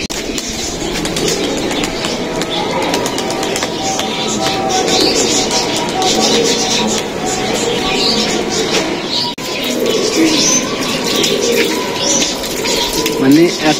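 Murshidabad pigeons coo inside a crowded pigeon loft, a continuous, fairly loud wash of calls and fluttering with a voice now and then.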